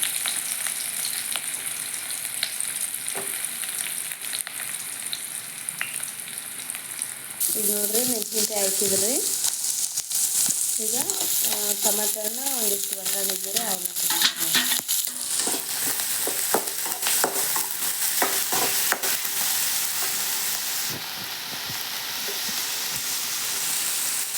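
Onion and cumin seeds frying in hot oil for a potato palya, a loud steady sizzle throughout with scraping stirs and brief clatter in the middle, no talk.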